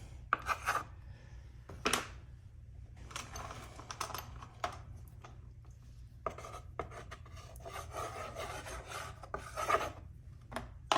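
A pencil being sharpened, heard as close, dry scraping and rasping strokes in short uneven bursts with small pauses between them, fairly quiet and with no voices.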